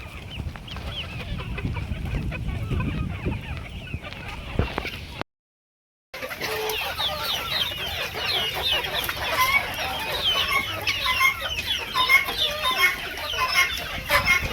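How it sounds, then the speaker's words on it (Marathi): Chickens cluck and squawk repeatedly inside a poultry shed as stormy, windy, rain-threatening weather moves in. The calls are close and busy, with a short silent break partway through before the clucking resumes louder. "आणि आपल्या कोंबड्या"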